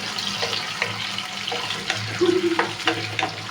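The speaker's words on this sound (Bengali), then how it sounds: "দেখেন পেঁয়াজটা হালকা ভেজে নিয়েছে, এখন টমেটো দিয়ে দিল, মরিচটা দিয়ে দেয়" Onion, tomato and chili frying in a pan for chicken chaap, a continuous close sizzle with stirring scrapes, and a short faint voice in the background.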